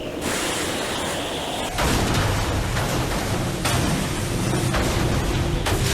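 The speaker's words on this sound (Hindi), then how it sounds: "ये पेपर बॉम्ब से बने कैनन बॉल्स हैं।" Cannon balls made of paper bombs firing from a battleship in the Naruto anime, loud booming blasts over a dense roar of stormy sea, with heavy thumps recurring through a continuous wash of noise and no talk.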